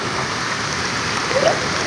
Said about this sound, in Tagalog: patuloy pa yung ulan, kaya lang medyo mahina na, pero siyempre, oh, agos ang tubig dyan